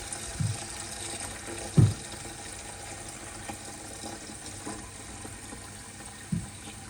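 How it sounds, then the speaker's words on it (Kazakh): Water is poured into a pot for boiling corn, a steady close splashing fill with a few louder knocks and clanks of the vessel along the way, and no talk. "Алдымен біз суымызды құйып дайындап аламыз."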